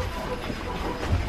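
A train rolls along its rails in a steady rumbling hum with faint rattles, heard from inside a nighttime carriage in Japan.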